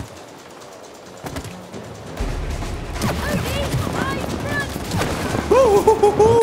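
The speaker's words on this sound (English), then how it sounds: "we're flying and shooting. We are sliding and shooting" Gunfire in the video game It Takes Two rattles in rapid bursts during flight, mixed with whooshing game effects and rising tonal sounds, while a player talks excitedly over it.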